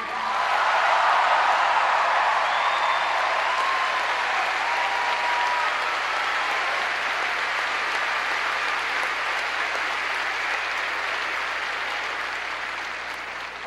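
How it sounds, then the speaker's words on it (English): A large crowd at a Barack Obama rally in Eugene, Oregon, breaks into loud, sustained applause, a dense roar of clapping that holds steady for over ten seconds before easing slightly at the end. "Please give a big round of applause to General Tony McPeak."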